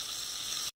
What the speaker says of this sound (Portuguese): Eu vou colocar um pouquinho da manteiga, não vou colocar todo, e fritar a linguiça.